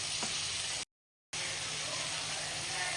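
Curry leaves dropped into a pan of duck curry masala for Kerala-style duck curry sizzle and fry with a steady hiss, broken by a brief dropout, then resume, close up.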